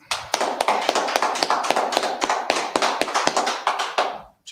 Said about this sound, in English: All right, everybody clap it up.